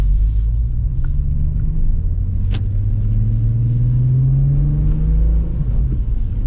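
MK4 VW Jetta wagon with a 12-valve VR6 and Remus muffler driving, a steady deep exhaust drone rising gently in pitch as it accelerates, heard from inside the car with no talk.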